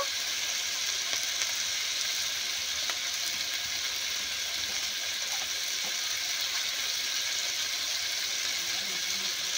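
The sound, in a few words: chopped tomatoes frying, sizzling in the pan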